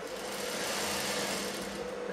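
A sewing machine runs a straight stitch on blouse fabric, producing a steady, close mechanical whirr that holds at an even level throughout without pauses.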